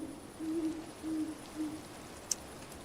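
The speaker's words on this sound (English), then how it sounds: "I know we're getting spooky owl noises" Owl hoots from a Minecraft-style video game modpack, a series of four low, soft hoots evenly spaced, heard at moderate distance over a faint background hiss, followed by a brief click.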